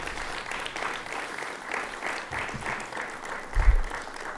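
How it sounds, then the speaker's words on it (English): Audience applause for university athletic hall of fame inductees, a moderate steady patter of clapping from a room-sized crowd lasting a few seconds, with a brief louder thump near the end. "Let's give a round of applause for all of them."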